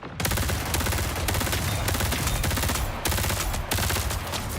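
Rapid automatic gunfire from the video game Marathon, emptying the ammo in continuous dense bursts with brief pauses between them, loud and close.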